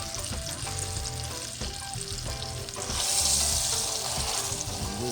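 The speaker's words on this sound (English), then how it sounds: "I'm trying to brown it a little bit" A roast browning in a hot frying pan at a pot-roast and garlic-potato cooking session, giving a steady close sizzle and crackle of frying with brief stirring and scraping sounds, growing hissier toward the end.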